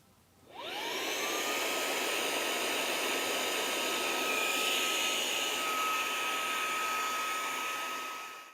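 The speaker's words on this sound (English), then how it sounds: "we're going to start the pump and we're going to pump it up to half to 1 psi" An air pump starts up and runs steadily, inflating a single-chamber FlowStop pipe plug to about half to one psi, with a rising whine that settles into a constant loud whooshing hum.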